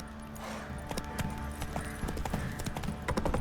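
Roach, the horse in The Witcher 3, gallops with steady rhythmic clip-clop hoofbeats on the ground, close and fairly loud over quiet background ambience.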